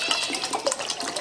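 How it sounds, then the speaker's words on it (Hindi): Water poured from a two-cup measure into a cooking pot holding sugar for gulab jamun syrup, a steady close splashing pour running the whole short moment with no talk. "चीनी और 2 कप में इसमें पानी डाल दूँगी"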